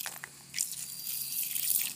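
Water squeezed and dripping into a Baby Alive toy doll, a soft wet trickle and splashing that builds over two seconds, close and fairly quiet with no voices.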